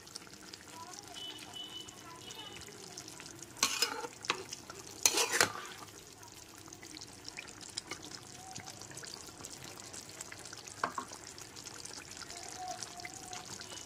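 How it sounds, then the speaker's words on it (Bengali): Soya chunk curry is stirred in a pan with a couple of brief scraping, sloshing strokes in the middle, quiet and close, amid low kitchen background noise. "2 থেকে 3 মিনিট পরে ঢাকনাটা খুলে ভালো করে আরেকবার নেড়ে নেব।"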